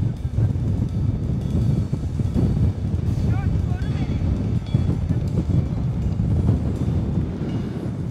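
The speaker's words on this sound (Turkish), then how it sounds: "Çok fazla rüzgar var." Strong wind on Patara beach buffets the microphone, a continuous low rumbling roar lasting the whole stretch with faint broadband gusts and no clear voice.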